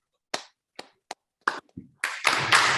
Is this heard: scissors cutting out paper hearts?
no